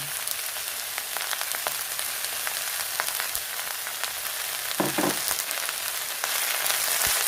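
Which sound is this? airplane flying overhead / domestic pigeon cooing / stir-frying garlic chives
stir-frying garlic chives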